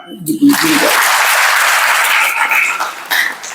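An audience at an award function breaks into applause, a dense steady roar of clapping that rises quickly and holds at full strength for several seconds, close and loud, after a brief spoken line.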